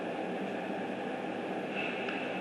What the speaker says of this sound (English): Then you take an engine and you put it on top of those bearings there, and then you can run the train at any speed you want.